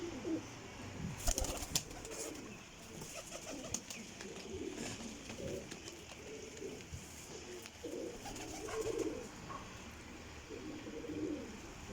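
Pigeons in a rooftop loft cooing in repeated low, throaty phrases, soft and fairly close, with a brief rustle or flutter of wings near the start.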